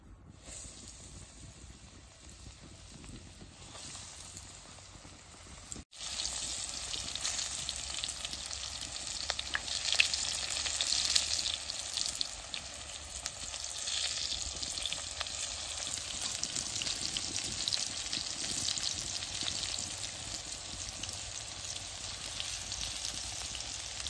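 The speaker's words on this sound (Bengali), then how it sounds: "তেলটা বেশ সুন্দর গরম হয়েছে। এখন চিপটি আমি ভেজে নেব।" Banana stem chips deep-frying in hot oil, a steady dense sizzle and crackle that swells after a brief pause and holds loud and continuous with no voices.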